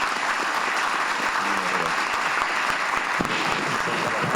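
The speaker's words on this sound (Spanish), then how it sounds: "Quiero que lo recibamos con un fuerte aplauso." A live audience at a conference by Argentine jurist Eugenio Raúl Zaffaroni breaks into steady, dense applause, a full continuous roar of many hands clapping from start to finish.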